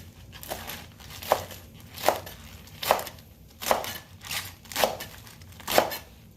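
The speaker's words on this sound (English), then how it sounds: "I'm gonna keep up chopping some greens here, nice and clean." A knife chops greens on a cutting board in about seven evenly spaced crisp strokes, close and clear, with a light leafy crunch after each cut and no talking.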